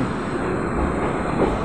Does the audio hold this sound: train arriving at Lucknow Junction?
yes